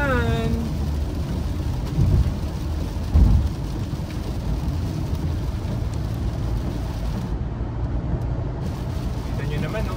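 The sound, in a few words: heavy rain with thunder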